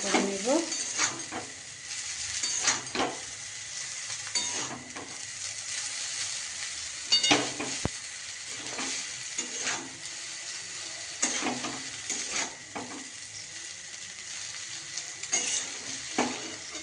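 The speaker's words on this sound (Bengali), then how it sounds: "চাউমিনটা দিয়ে দিই দিয়ে ভালোভাবে ভেজে নেব" Egg chow mein noodles sizzle and hiss in a hot pan while a utensil scrapes and tosses them in repeated bursts.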